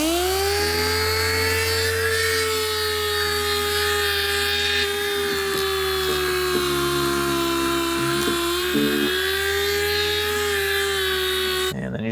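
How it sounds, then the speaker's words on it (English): A power sander wet-sands a car headlight with a 1500-grit disc, giving a loud, steady high-pitched whine with strong harmonics that drifts slightly in pitch, running alone and unbroken until a brief stop at the end. "So we're doing some wet sanding, so we just wanna make sure that everything is properly lubricated"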